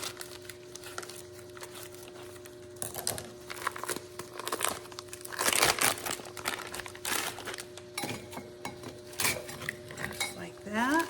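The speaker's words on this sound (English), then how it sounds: "And then I've got some carrots. I'm gonna add these." Carrots tumble into a pot of vegetable soup among scattered clinks and clatters of utensils against cookware, with a soft continuous hum behind.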